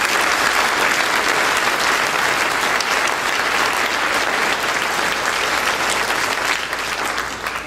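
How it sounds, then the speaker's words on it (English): Dinner audience in a banquet hall giving a big round of applause, a loud, dense, continuous clapping that holds steady and tapers slightly at the end, with no talking. "Let's give him a big round of applause"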